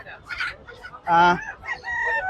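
A rooster crows loudly and close at Hasnabad poultry market, one full call standing out among clucking fowl and faint background voices.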